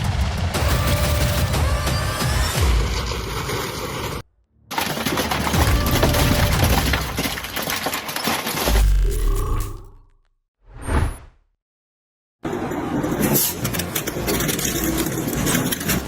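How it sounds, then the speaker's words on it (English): Industrial shredder grinding and tearing through material, a loud, dense mechanical roar with crunching bursts, cut by abrupt pauses and brief whooshing gaps before the heavy grinding resumes. "You won't believe what these shredders can tear through today."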